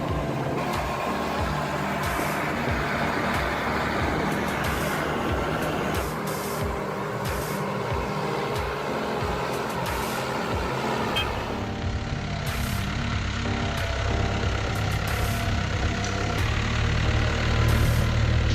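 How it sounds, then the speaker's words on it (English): A heavy machine's engine roars as it struggles against the suction of deep swamp mud, giving a steady, loud, low rumble that thickens and deepens toward the end. "The engine roared violently, as if it was struggling against the suction of the mud."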